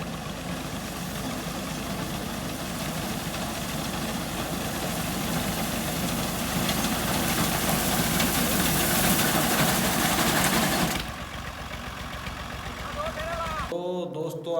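A tractor engine runs steadily in a wheat field, with a loud continuous rumble that drops to a quieter idle near the end, as someone talks over it.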